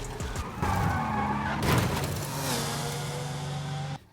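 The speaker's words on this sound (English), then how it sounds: "Did you see see how smooth that drift?" A car drifting in a driving simulator, tires skidding and squealing loudly and continuously for several seconds with engine noise underneath, cutting off abruptly at the end.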